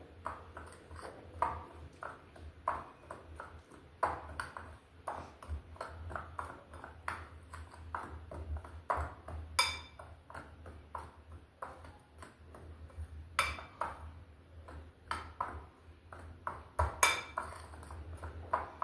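A spoon stirring coriander, cumin and dry ginger powders in a bowl for homemade chaat masala, giving light, irregular metallic clinks and taps over a quiet background, with no talking.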